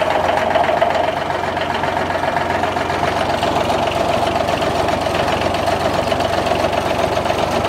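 Yanmar diesel engine of a John Deere 755 compact tractor with a fuel issue, running loud and close in a steady rough idle with a knocking, uneven throb throughout.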